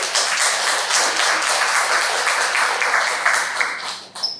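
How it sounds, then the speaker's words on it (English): A room of club members gives a round of applause at a Toastmasters meeting in Dubai, steady dense clapping throughout that thins out near the end. "A big round of applause again."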